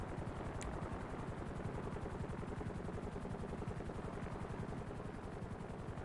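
A helicopter in the video game GTA Online drones with a steady, rapid rotor chop, faint but continuous throughout with no talking.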